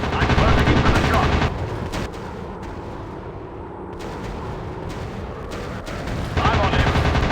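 Aircraft machine-gun fire in the WW2 dogfight game Warplanes, a loud, dense, rapid rattle that runs in sustained bursts over a droning engine, easing off briefly mid-clip before surging back.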